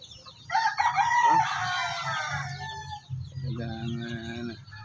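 Roosters kept as fighting birds crow loudly in overlapping calls, one long crow followed by another, with clucking and farmyard murmur beneath.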